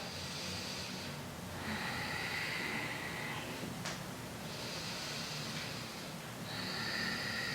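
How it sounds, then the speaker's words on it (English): Slow, deep Ujjayi breaths during a yoga practice, each long inhale and exhale a soft, throaty oceanic hiss close to the microphone, repeating in an even rhythm. "Connecting with our Ujjayi breath here."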